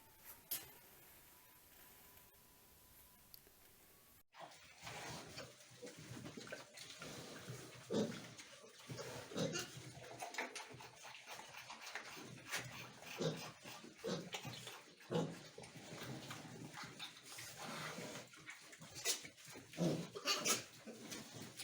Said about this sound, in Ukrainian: поросяткам 16 й день, а вони вже цікавляться кормом і лізуть до мамки в корито, теж його кушати